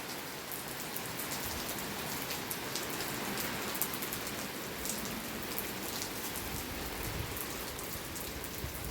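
Steady rain patters down on surfaces nearby, a dense continuous hiss with scattered distinct drops and no voices.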